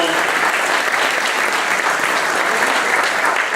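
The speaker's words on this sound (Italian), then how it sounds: "il vostro applauso spontaneo" An audience at a choral festival concert for a polyphonic choir applauds continuously, a dense, loud wash of clapping that holds steady from start to end without pause.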